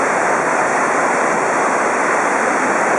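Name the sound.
roar of Salto Grande waterfall in Corupá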